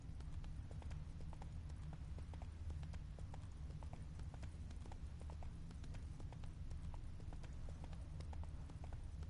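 Roach the horse from The Witcher 3 plods with a continuous, even clip-clop of hooves, quiet and steady over a low rumbling game backdrop.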